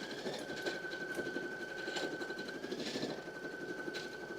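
A sewing machine stitches steadily with a thin whirring whine and a soft, rhythmic bobbin rattle, fairly quiet and close, with no voices.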